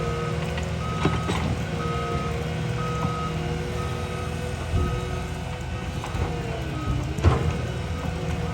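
Steady rain falls on a dirt driveway while a truck rumbles close by, and its reversing alarm beeps repeatedly in a regular rhythm over the constant wash of the rain.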